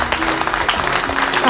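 Applause from an audience in a Bhojpuri family drama scene, a short burst of steady, dense clapping from several people at moderate distance.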